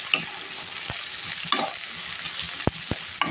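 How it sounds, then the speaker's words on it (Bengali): Chopped onion fries in oil in a frying pan for a hilsa fish dish, a continuous soft sizzle broken by a few sharp clicks and scrapes of stirring. "এখন পেঁয়াজটা একটু লাল করে নেব আমি"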